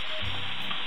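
Shrimp sizzle in a hot pan while being turned, a quiet, steady frying hiss with a faint low bump as they shift.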